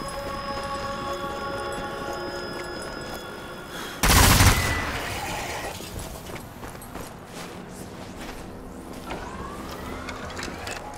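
A gun turret fires in Zombie Army 4 Dead War, a single loud burst that stands out sharply against steady game ambience and music, then fades as the background carries on.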